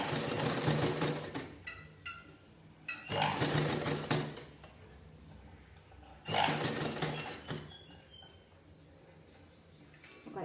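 A sewing machine stitches a blouse in repeated bursts of fast, close mechanical whirring separated by short pauses.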